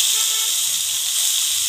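Finely chopped large onion frying in hot oil with dried red chillies for a jackfruit seed chutney: a steady, close, bright sizzle that holds level throughout, with no one talking.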